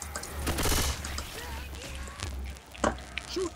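Gunfire from the zombie shooter game Left 4 Dead 2, with rapid overlapping shots and a few louder bangs, loud and close. A player talks faintly under the gunfire.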